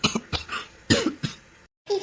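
A person coughs several times in a Tamil drama serial scene: a quick series of short, harsh, close coughs with brief pauses, then a moment of silence before a sound starts again.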